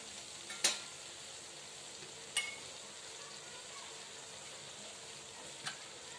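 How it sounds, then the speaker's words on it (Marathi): Masala with turmeric and green chilies sautéing in hot oil in a home kitchen gives a steady, soft sizzle throughout, broken by a few sharp crackles and spatters. "आपला मसाला बघा इतका छान तेलात परतले गेला आहे"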